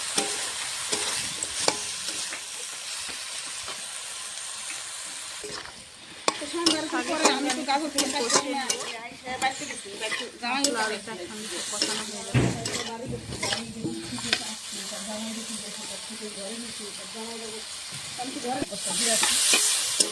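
Spinach and foli fish stir-fried in a pan, with a steady sizzle and repeated scraping stirs of the spatula against the metal, close and fairly loud. A brief quieter lull comes partway through.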